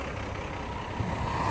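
A box truck passes along a snowy New York street, heard from a high vantage point as a steady, fairly distant engine rumble with no talk over it.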